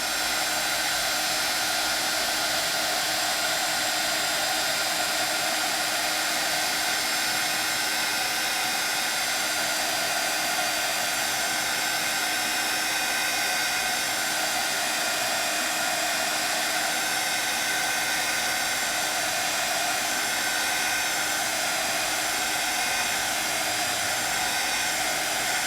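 Heat tool blowing hot air to melt clear embossing craft material at a craft class, a steady loud whirring airflow with a high hiss, continuous and close throughout with no pauses.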